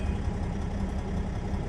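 A diesel truck engine idles in a steady, low, continuous rumble, close and even throughout, with no talking over it.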